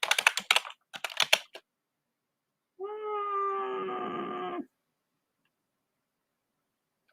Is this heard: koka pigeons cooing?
no